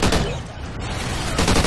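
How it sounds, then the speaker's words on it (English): A mounted turret gun in Call of Duty Ghosts Extinction fires in dense, rapid bursts. The loud, close gunfire runs almost unbroken with a brief lull midway. "Dude, this turret is fantastic."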